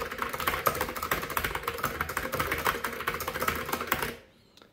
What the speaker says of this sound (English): Definitely makes a little gentle click, a deep one.